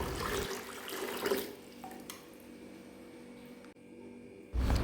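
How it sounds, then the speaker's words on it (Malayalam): Water splashes and pours into a bucket at first, then fades to a quiet trickle, and a loud burst of pouring returns at the very end. "നോർമൽ പച്ചവെള്ളവും കൂടി ആ ബക്കറ്റിലേക്ക് ഒഴിക്കണം"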